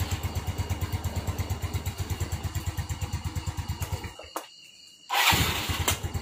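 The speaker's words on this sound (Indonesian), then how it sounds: "nah ini starternya udah nyala lagi." A motorcycle engine, just started on its repaired electric starter, runs with a close, steady pulsing idle, cuts out for about a second, then fires again and keeps running.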